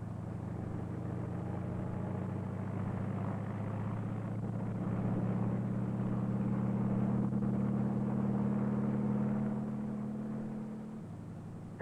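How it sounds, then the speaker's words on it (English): A helicopter drones steadily overhead with a sustained rotor and engine hum that swells slightly toward the middle before easing off. "Helicopters can land in a small space, even on a rooftop, in the middle of a city."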